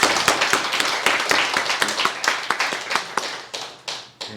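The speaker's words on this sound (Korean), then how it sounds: "하나님께 영광과 감사의 박수 한번 올려드리겠습니다" Congregation clapping during a Sunday church service, a fairly near, loose round of individual claps with distinct sharp hits that thin out toward the end.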